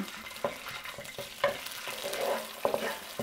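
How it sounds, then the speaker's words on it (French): Chili bean sauce fries in a wok, with an up-close sizzle and repeated scraping strokes of the spatula stirring at an uneven rhythm. "On met la sauce aux fèves et piments rouges. Et on va faire revenir ça environ 30 secondes."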